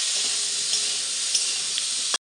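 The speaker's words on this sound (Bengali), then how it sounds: "আর এখানে দেখো আলুটাও ভাজা চলছে, আলুটাকেও ভেজে তুলে নেব" Potatoes fry in hot oil in a pan, giving a bright, steady sizzle with a few small pops, close up, before it cuts off abruptly.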